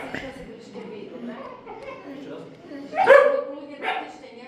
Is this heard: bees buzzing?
no